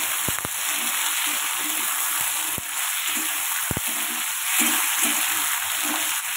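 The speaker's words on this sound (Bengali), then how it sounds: "লঙ্কা আর কালো জিরে ফোড়ন দিয়েছি, আলুটা একটু ভেজে নিই।" Potatoes fry in hot oil tempered with chili and black cumin, a steady close sizzle with occasional sharp clinks and scrapes of a stirring utensil against the pan.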